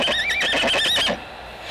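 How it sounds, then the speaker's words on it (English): A horse pulling an Amish horse-drawn buggy on a back road in the Strasbourg area whinnies loudly and close, then goes quiet with faint background. "A familiar sight in the Strasbourg area is the Amish plugging along the back roads in horse-drawn buggies"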